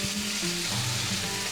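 Steady, crackling sizzle of chicken pieces for shawarma frying flat side down in a hot pan, close and continuous with no talking.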